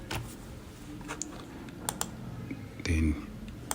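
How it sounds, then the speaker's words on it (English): Computer keys tapped on a keyboard while entering an Excel shortcut, quiet and scattered clicks with a somewhat louder cluster near the end. "Then we press Alt on our keyboard, Alt plus equal."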